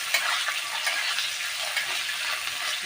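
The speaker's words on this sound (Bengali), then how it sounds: "আমি অনেকগুলো হালকা ভাজা করে তুলে নেব" Paneer pieces fry lightly in hot oil with a continuous, even sizzling hiss at moderate volume, with no other sounds over it.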